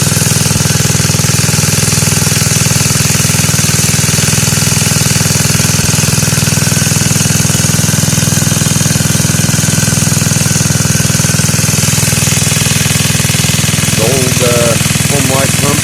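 Homelite pump engine on a gold dredge, a steady loud mechanical drone with rapid knocking pulses, running continuously for the whole stretch with no letup, a voice breaking through faintly near the end.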